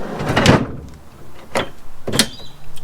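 The locking mechanism on a rear drawer fitted in a Ranger Raptor, three sharp metallic clacks and latch clunks spaced about a second apart, close and fairly loud.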